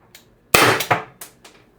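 A Byrna LE CO2 launcher fires a single shot: one sharp, loud crack with a short ringing decay, followed by a few quieter metallic clinks in otherwise quiet surroundings.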